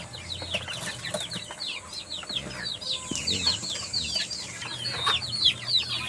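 Native chickens cluck and chatter continuously while feeding, many birds close by with overlapping calls and a few wing flutters, with no talk.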